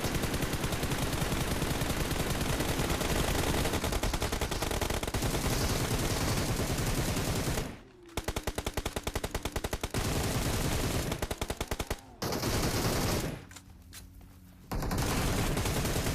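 AK and M4 rifle gunfire in the BGMI video game, loud sustained bursts of rapid automatic fire with brief gaps and short pauses between volleys.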